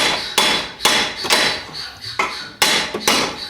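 A hammer taps a new sprocket part into place on a go-kart. Six sharp metallic strikes land at irregular intervals, each ringing out briefly, loud and close with no talking.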